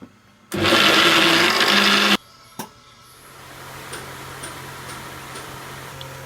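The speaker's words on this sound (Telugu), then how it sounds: "నానబెట్టిన మినపప్పును మిక్సీకి పట్టుకొని మెత్తగా రుబ్బుకోవాలి" A mixer grinder roars for under two seconds while grinding soaked urad dal, then stops abruptly, leaving a quiet hum with a knock and faint ticking.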